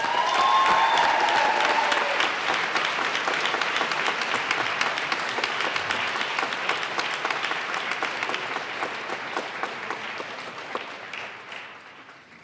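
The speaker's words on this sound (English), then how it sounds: "Let's give him one more round of applause," Applause fills a state legislative chamber for the governor after the Colorado State of the State address, a dense, steady roar of many hands that starts loud and slowly thins over about twelve seconds, with no speech over it.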